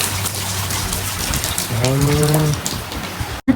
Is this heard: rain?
yes